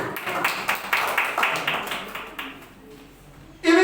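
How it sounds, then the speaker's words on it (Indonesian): A church congregation at a Sunday morning service claps for God, a sustained burst of rhythmic hand claps that gradually thins out before a sharp, louder sound at the very end. "Tepuk tangan buat Tuhan."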